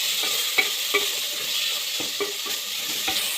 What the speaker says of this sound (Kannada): ಹಾಕಿ ನೀಟಾಗಿ ಹಸಿ ಸ್ಮೆಲ್ ಆಗೋವರೆಗೂ ಹುರ್ಕೊಳ್ಳಿ